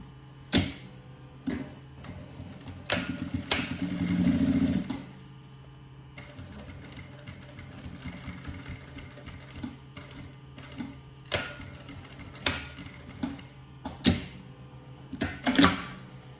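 A sewing machine stitches a seam while making a zippered double pencil case, running in short bursts with pauses, one longer run in the middle, with quiet handling between.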